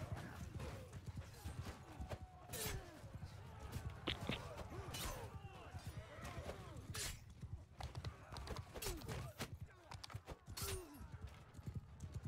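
Video game horse hooves clip-clopping in a quick, steady gallop rhythm under a faint neigh, mixed with battle clatter and muffled talk throughout.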